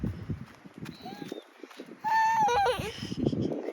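Donkeys at a farm give a short, wheezy, braying call with rising and falling honks, close by, between brief stretches of people talking and some shuffling movement around the animals.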